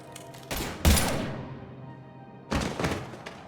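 Gunfire from the video game Mass Effect 3: two loud, sharp bursts about two seconds apart, each with a booming thud and a long decaying tail, over a steady low background.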